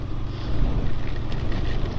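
Steady, blustery typhoon wind roaring against the microphone, a low rumbling buffet with no voices, continuous for the whole stretch.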